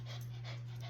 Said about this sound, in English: excuse my little dog here, he wants some attention.